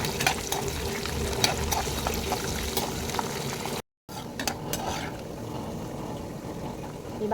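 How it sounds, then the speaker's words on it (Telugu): Cashews frying in hot ghee in a pan, a steady crackling sizzle with sharp little pops, close up and loud, easing slightly after a brief gap. "కాజు గీలో వేపుకుందాం"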